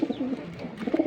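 Pigeon cooing up close, a soft throaty burble repeated over about a second, with no voices.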